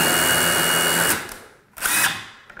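A power drill run in reverse to burn a screw hole into a thin wooden door jamb whines loudly and steadily, cuts out, then gives a second short burst before stopping.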